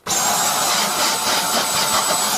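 Dyson Cyclone V10 cordless stick vacuum cleaner running on its low setting, a steady, loud, close motor whine with a constant high tone and airy rush, holding level for the whole stretch without pause.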